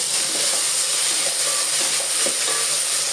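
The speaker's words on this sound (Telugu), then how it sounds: "ఈ టైంలో మనం 2 స్పూన్స్ అల్లం వెల్లిపాయ పేస్ట్ వేసేసుకొని అది పచ్చివాసన పోయే వరకు వేయించుకోవాలి" Ginger-garlic paste fries in hot oil with browned onions for mutton dalcha, giving a continuous, close, loud sizzle with faint stirring scrapes.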